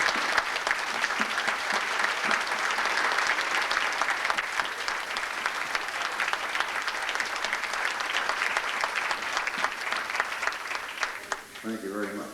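Audience at a Mustang Club banquet giving sustained, loud applause, a dense wash of many hands clapping continuously for several seconds before trailing off near the end.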